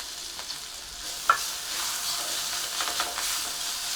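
A steady crackling sizzle of ground coriander, chilli and ginger paste frying in hot oil, with a few sharper pops and stirring scrapes, close and continuous with no voices.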